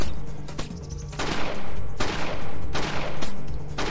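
Automatic gunfire from the Splinter Cell video game erupts in several loud, sustained bursts with short gaps between them, close and dominant, with almost no talking.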